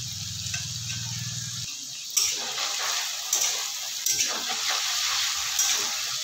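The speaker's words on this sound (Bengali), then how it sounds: "তেলটা গরম হয়ে গেছে, এবার আমি আলু দিয়ে দেবো প্রথমে।" Small diced potatoes hit hot oil in a pan and fry with a steady hiss, broken by a few sharper crackles and spatters; a low hum sounds briefly at the start.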